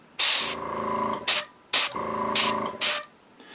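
Paint flicked from a brush onto a miniature model for a mud splatter effect, giving several short, sharp hissing sprays in two bursts, close and fairly loud with no talk.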